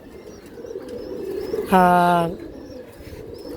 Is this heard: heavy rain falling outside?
no